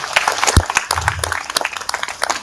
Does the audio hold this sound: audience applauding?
yes